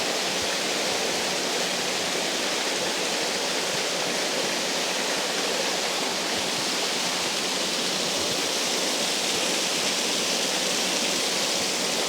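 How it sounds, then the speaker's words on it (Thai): A waterfall at the Wat Pa Phu Pha Sung temple skywalk viewpoint gives off a continuous, even rushing roar that holds steady throughout, with no voices. "น้ำตก นะครับ"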